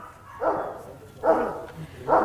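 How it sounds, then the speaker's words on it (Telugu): Dogs at a farm house with a small zoo bark in three separate bursts, spaced evenly and heard at a moderate distance over quiet surroundings. "అమ్మో, మీ డాగ్స్ వస్తున్నాయా?"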